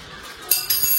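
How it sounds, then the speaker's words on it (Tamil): A metal spoon drops onto a home floor, giving two quick bright clinks about a fifth of a second apart, close by and over a low household background. "ஸ்பூன் கீழே வந்துருச்சு"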